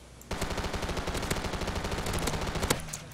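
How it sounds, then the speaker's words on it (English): Rapid automatic gunfire shooting zombies in a Call of Duty 4 zombies mode, a sustained close burst of steady shots lasting under three seconds with a couple of louder cracks, then stopping. "let's shoot up some zombies"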